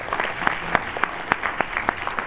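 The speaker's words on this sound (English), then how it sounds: "please give again a big round of applause" Audience applause at a conference session, a steady dense patter of clapping with sharper individual claps standing out, fairly close and alone without talk.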